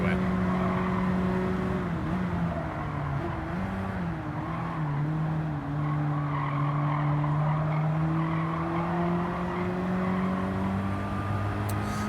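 Volkswagen Golf GTI lapping the Nurburgring in Gran Turismo 7, its engine a steady droning whine rising and falling with gear changes, tires squealing through corners, loud and continuous, with a voice talking faintly underneath.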